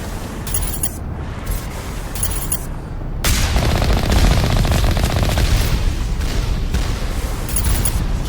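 Automated turrets in the game Mass Effect fire in a sustained, loud barrage of rapid shots and booms, with bursts of crackling fire throughout and no talk.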